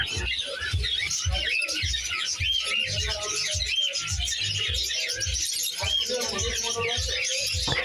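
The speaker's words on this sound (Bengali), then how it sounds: "প্রিন্স পাখি ছোট আকারের হলেও এদের গলার আওয়াজ বেশ সুন্দর" Small finches and other cage birds in a Jessore bird shop keep up a dense, continuous chatter of high chirps and tweets, with a low rumbling background underneath.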